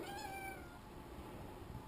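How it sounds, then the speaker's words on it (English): A cat meows once faintly, a short drawn-out call at the start, then fades into quiet background noise. "Oh, there's the kitty."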